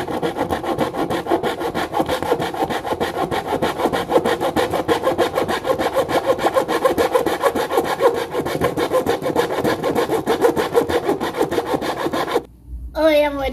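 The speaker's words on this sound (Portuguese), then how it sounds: "eu estou aqui já cortando o pedaço" A piece of PVC baseboard is sawn by hand with fast, steady back-and-forth strokes that rasp on for about twelve seconds. The sawing then stops abruptly and a short voice follows.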